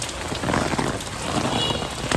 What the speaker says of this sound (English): This is the most rain we've seen for a long time.